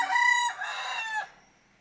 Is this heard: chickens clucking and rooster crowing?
yes